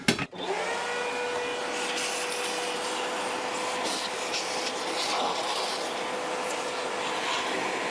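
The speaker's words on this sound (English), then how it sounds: "vacuum out where the gasket sits." A shop vacuum runs steadily after a sharp start, sucking debris from the air filter gasket seat of a 2007 Suzuki GSX-R 1000 motorcycle, a close, even whine and rushing airflow with no talking.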